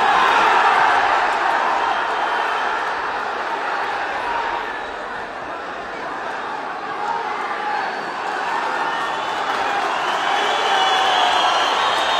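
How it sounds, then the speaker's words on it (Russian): A crowd at a kuresh wrestling bout in Almaty applauds and cheers the wrestlers after the match, a steady, dense roar of clapping and voices that stays loud throughout. "Аплодисменты спортсменам!"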